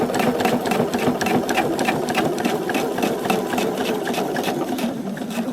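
A sewing machine runs steadily at close range, back-stitching assembled pattern pieces, its needle chattering in a fast, even mechanical rhythm that continues unbroken to the end without any speech.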